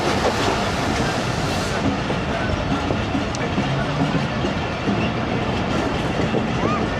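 Ghouri Express passenger train pulling into Sangla Hill Junction on an evening run, a steady dense rumble of wheels and carriages with faint rhythmic clatter, continuous and fairly loud throughout.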